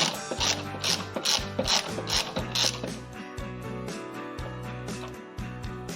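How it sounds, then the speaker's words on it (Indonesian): A ratchet wrench with a 10 mm socket loosens bolts during a light engine tune-up, giving a close, rapid clicking that runs in repeated bursts with short pauses between strokes. "Kita buka dulu menggunakan kunci shock ukuran 10 mm dengan menggunakan bantuan reset."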